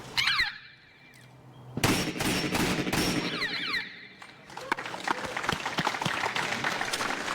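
Gunfire at a steel plate shooting match: rapid volleys of sharp shots with metallic plate rings, some overlapping, at moderate distance, in an outdoor range setting.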